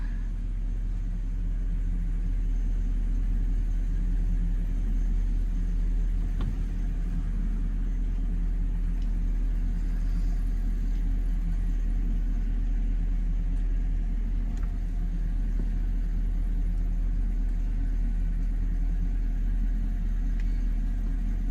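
A 1995 Lexus SC 400 engine runs in a steady low rumble for the whole stretch as the car rolls forward under its own power, close and even, with only faint clicks and no talking.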